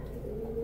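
Soft, low pigeon cooing drifts steadily through the short stretch, faint and continuous with no one speaking.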